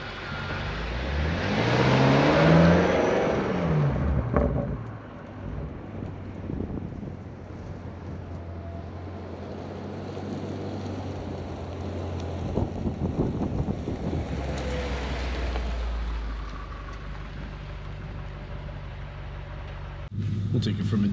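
A 2022 BMW M8 Competition launches from a standstill on a winter road: a loud engine note climbs sharply for a few seconds, then gives way to steady road and wind roar, with excited talk over it.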